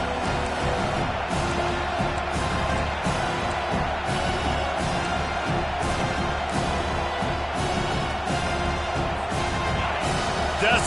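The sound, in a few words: stadium crowd cheering for the defense on third down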